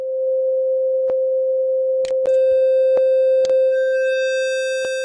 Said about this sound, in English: And apply distortion over it as an insert.